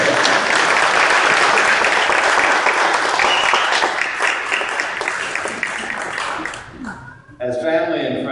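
Wedding guests break into loud, dense applause that fades toward the end, followed by a voice speaking.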